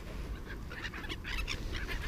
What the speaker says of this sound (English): Seagulls crashing into each other.